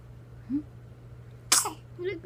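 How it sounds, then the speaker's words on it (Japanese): A twelve-day-old newborn baby gives one quick, sharp sneeze, with small soft baby sounds before and after it and a quiet background hum. "くしゃみ。"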